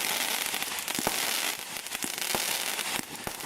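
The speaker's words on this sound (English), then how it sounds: "Plenty of crackle in here." Aldi firework cake shots burst into dense crackle effects, a continuous loud fizzing crackle with several sharp pops and bangs scattered through it, with no voices.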